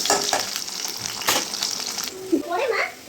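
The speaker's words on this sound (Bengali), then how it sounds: "এরকম একে একে সব সবজি হালকা করে ভেজে নেব" Vegetables frying lightly in a wok for home-style shukto, a soft continuous sizzle with stirring, while a voice speaks briefly near the end.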